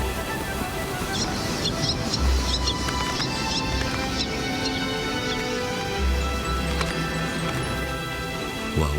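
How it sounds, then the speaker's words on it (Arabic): White tropicbirds call over sea cliffs on Ascension Island, their whistle-like chirps scattered above a steady roar of wind and surf, with a dense bird colony close by. "سماها البحارة طيور البوسون لأن صوتها يشبه صوت صفارة البوسون"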